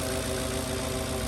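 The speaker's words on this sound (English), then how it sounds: "Oh my God. Listen to that engine." Engine of a cheap used Porsche running steadily at idle, a continuous close, even rumble with no voices over it.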